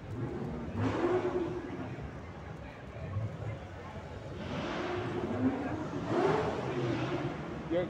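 A red Ford Mustang at an American car meet in Benidorm revs up in two rising surges, passing fairly close over steady outdoor crowd noise, with people talking nearby.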